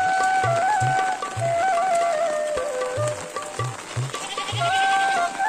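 Goats and cattle bleat in a Garhwal village during heavy rain, the calls rising and falling over a steady wash of rainfall, with regular low thuds recurring throughout.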